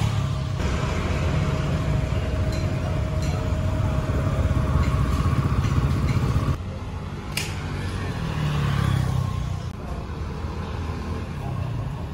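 A Yamaha Xeon GT 125 scooter runs on a test drive, its engine a loud continuous drone with wind rush that dips and then swells again partway through.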